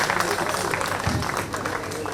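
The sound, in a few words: audience applauding best employee at Independence Day celebration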